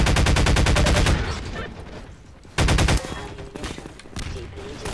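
Rapid gunfire in Half-Life 2 rattles out as a dense burst of shots for about a second, then a lull, then a second loud burst, with quieter game noise between.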